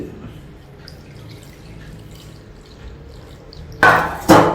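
Water poured into a homemade ant spray mixture arrives as two brief, loud close splashes near the end, after a stretch of quiet room tone.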